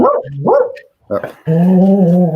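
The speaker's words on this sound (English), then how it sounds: "That's my dog weighing in." A dog barks and whines loudly nearby in short bursts, mixed with brief talk from a person.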